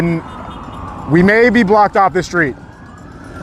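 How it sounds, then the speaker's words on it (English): Police sirens wail in rising and falling sweeps from a street where a Los Angeles protest is under curfew, loud for a couple of seconds and then easing off as someone talks over them. "Okay, we're hearing sirens."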